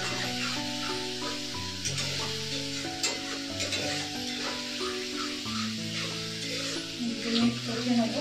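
Spice paste with chili powder sizzles and fries steadily in hot oil while being stirred, a continuous close crackle with music playing over it throughout.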